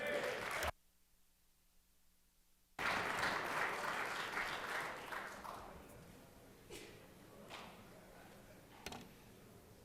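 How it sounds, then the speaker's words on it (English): Applause in the Georgia Senate chamber during a legislative session swells after a brief silent gap, steady and fairly close at first, then fades gradually into scattered claps. "Let's give him a round of applause."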